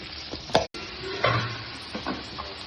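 Curry leaves frying in hot oil in a pan for a spicy garlic potato fry, a steady close crackle with stirring knocks and short bursts of sizzle, with no voices.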